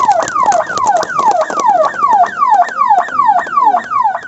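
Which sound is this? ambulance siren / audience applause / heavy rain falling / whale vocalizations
ambulance siren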